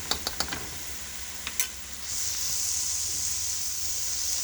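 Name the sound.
stirring flour and butter in a sizzling pan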